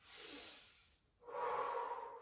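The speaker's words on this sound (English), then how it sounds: "Breathing in through the nose, out through the mouth, as though you're breathing through a wide drinking straw" One slow breath, drawn in through the nose and then let out through the mouth as if through a wide drinking straw, close and soft with a short quiet gap between the inhale and the exhale.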